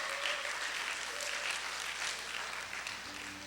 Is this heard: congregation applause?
yes